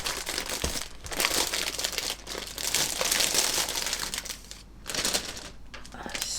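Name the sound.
crinkling of a resealable plastic packet from a model kit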